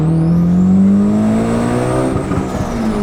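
A Mazda RX-8 rotary engine revving toward its 9,000 RPM redline, a loud close buzzing whine climbing steadily in pitch before easing off slightly near the end.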